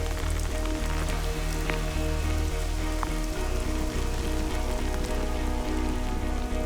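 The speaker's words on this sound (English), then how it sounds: "The downpour has subsided" Heavy rain pours down steadily during a triathlon, a dense continuous hiss of drops on surfaces with a low rumble underneath, loud and unbroken throughout.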